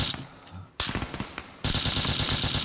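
Rapid automatic gunfire in a war video game, bursts of repeated shots in quick succession growing louder and denser toward the end, with no voices.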